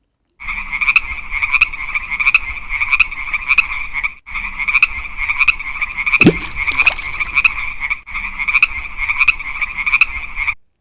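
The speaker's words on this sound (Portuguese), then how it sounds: "Você já deve ter ouvido sons ali dos sapos." Frogs croak in a steady, rapid pulsing chorus that runs loud and close for nearly eleven seconds, with two brief gaps and a short sharp burst of noise midway.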